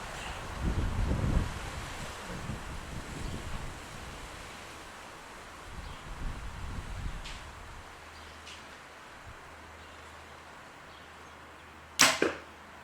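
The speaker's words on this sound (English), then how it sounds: "It's very windy today" Gusty wind rumbles and buffets the microphone outdoors, rising and falling, followed near the end by a sharp thwack of an arrow from a PSE Dominator Duo M2 compound bow striking a target.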